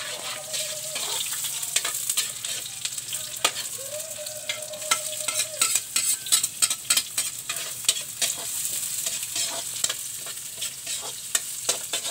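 Food is sautéed and stirred in a frying pan in a provincial home kitchen in Aklan. Frequent spatula scrapes and clicks rise over a constant close sizzle, with a brief whining tone in the background and no talking.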